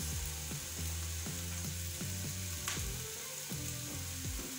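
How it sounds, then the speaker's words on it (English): Peppers fry over medium heat in a pan with melting butter, a constant crackling sizzle under repeated low rhythmic knocks and tones, fairly quiet and without speech. "as you can hear, because I've got that medium heat, right, the crackling, I've got the right kind of heat that I'm looking for"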